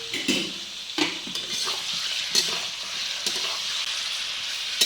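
Chicken breast pieces fry in oil with curry leaves for a curry, a steady close sizzle punctuated by repeated scrapes and clinks of a spoon stirring the pan.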